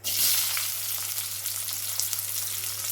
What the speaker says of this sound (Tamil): ஸோ ஒரு பெரிய வெங்காயத்தை போட்டுக்கிறேன்.